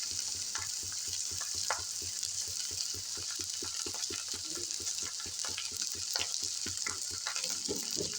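Pav bhaji frying with Suhana pav bhaji masala, a constant bright sizzle under a fast regular rhythm of mashing or stirring strokes in the pan, close and even throughout.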